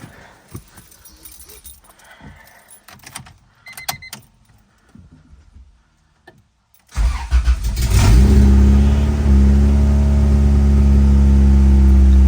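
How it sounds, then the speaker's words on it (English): Quiet clicks and clatter, then a Honda Civic engine cranks and catches with its exhaust disconnected, settling into a loud, steady, deep idle rumble that continues to the end. "Let's give you guys first startup."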